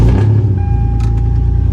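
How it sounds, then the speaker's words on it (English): A cold Toyota 4Runner SUV engine idles steadily and loudly after a cold start, a low rumbling drone with a faint whine, close by and without talk. "I will give you guys a little cold start."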